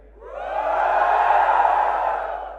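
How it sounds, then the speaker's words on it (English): A large crowd of fans at a smartphone launch event cheers and whoops, swelling quickly into a sustained roar of voices that fades slightly toward the end. "Mi fans, give me a cheer."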